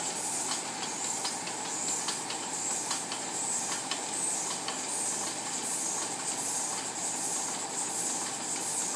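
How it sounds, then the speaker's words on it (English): Air compressor driving a Mogul 486 steam locomotive chassis under test, giving steady hissing air with rapid rhythmic chuffing clicks from the running gear, moderately loud and continuous throughout. "Compressor turned back on."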